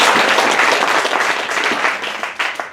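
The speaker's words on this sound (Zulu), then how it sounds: "ngicela sishayele izandla bazalwane" A church congregation applauds together in a steady, full wash of clapping that thins slightly toward the end, with faint voices underneath.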